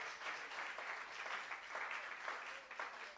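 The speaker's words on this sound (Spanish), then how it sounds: "Yo creo que vale la pena darle un aplauso al Señor, ¿no?" A church congregation at a sermon applauds steadily for a few seconds, a dense, even wash of many hands clapping in a large room, with no speech over it.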